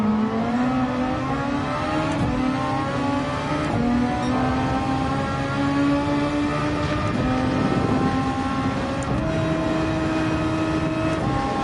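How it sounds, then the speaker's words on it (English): Loud, close engine of a Super Formula race car in Gran Turismo 7 runs at high revs, with several sharp gear changes and a quick downshift blip breaking its steady whine. "Probably didn't need a downshift there, but figured it wouldn't hurt."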